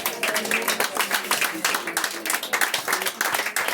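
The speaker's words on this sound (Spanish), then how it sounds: "Denle un aplauso a él, aleluya." A church congregation claps together in a dense, lively round of applause, steady and fairly loud throughout with a rhythmic, uneven texture of many hands.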